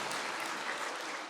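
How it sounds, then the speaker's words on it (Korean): A church congregation at a spring special dawn prayer service breaks into brief, dense applause, a steady wash of many hands clapping together, fairly loud and close. "이 자리에 안 계시지만 박수 한번 보내드릴까요?"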